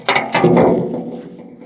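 Ratchet wrench loosening rusty bolts on a John Deere 9500 combine, a short close burst of rapid metallic clicking that trails off.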